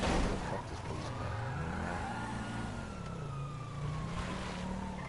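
A police car siren wails in slow rising and falling sweeps over a steady engine and road rumble, moderately distant and continuous throughout.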